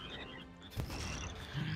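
Frog croaks from the artillery video game Shellshock Live, a short run of fairly quiet croaking with one sharp impact in the middle, heard alone without talk.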